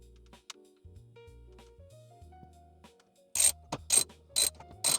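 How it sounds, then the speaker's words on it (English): A 14 mm bolt is worked loose with a half-inch drive breaker bar inside a 20-year-old car interior, heard as faint creaks and tonal scrapes followed by four loud, close ratcheting clicks in quick succession. "It's a 14 millimeter. I'm using a half drive breaker bar. So yeah, that's how you're gonna unbolt these."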